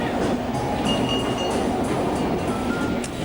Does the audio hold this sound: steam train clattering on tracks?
yes